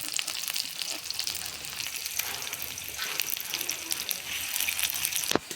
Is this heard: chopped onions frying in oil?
yes